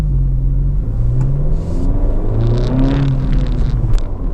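An Acura Integra engine drones loudly and steadily as the car accelerates up a steep Vancouver hill, with a continuous rumbling note that rises gently under the revs.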